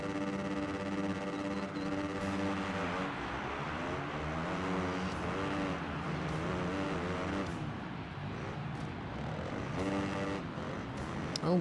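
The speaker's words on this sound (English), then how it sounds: "Oh, many motorcycles." Many motorcycle engines whine and rev together in the supercross racing video game Monster Energy Supercross, a shifting, buzzing chorus of pitches rising and falling continuously at moderate loudness.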